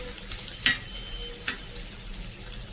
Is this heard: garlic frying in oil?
yes